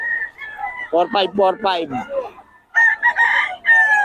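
Roosters crow loudly and close by, with a few short crows and clucks coming in quick succession, and someone speaks briefly between them.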